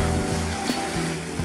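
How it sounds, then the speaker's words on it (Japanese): Weak shore-break waves on a beach with an offshore wind, a continuous close wash of surf with faint rising and falling swells. "うねりは見えますがほぼほぼショアブレイクですね。"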